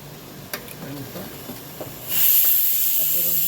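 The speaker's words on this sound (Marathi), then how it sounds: "मस्त वाफ होणार आहे" Steam from sabudana steaming under a lid for chakli rises into a sudden loud, steady hiss partway through, after quieter kitchen clatter with a few sharp clicks.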